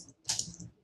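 Short burst of computer keyboard typing while entering code, a few close, crisp keystrokes clustered in under a second.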